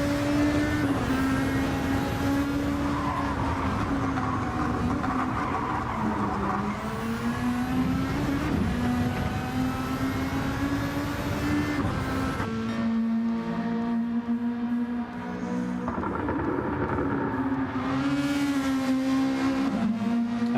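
A race car engine in a console racing game drones steadily and loudly, its pitch rising and falling through repeated gear shifts and revs, with a brief lull before climbing again.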